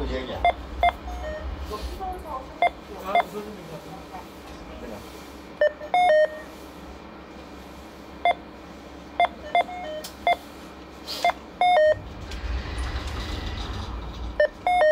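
Telephone keypad tones ring out as a phone number is entered, with short bright beeps in uneven bursts and clusters, some closely spaced, over a constant low hum, followed by a burst of broadband noise near the end.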